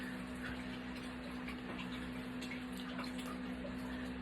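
A face towel is rinsed under running tap water, a steady close rushing flow with a constant low hum beneath it and no talking.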